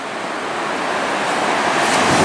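Ocean surf washing against a rocky beach at Bandon, Oregon, forms a steady, loud broadband roar that swells slightly toward the end, with wind buffeting the microphone and no voices.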